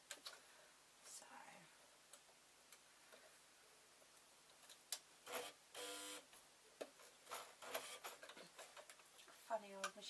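A home sewing machine stitches through thick layers of fabric in short, uneven bursts of rapid mechanical clatter, with quiet talking and pauses between runs.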